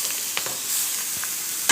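Grated beetroot stirred in a frying pan with onions, a steady sizzle under a few scraping strokes of a spoon against the pan, with no talking.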